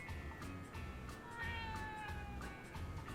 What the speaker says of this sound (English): Sad cat noises.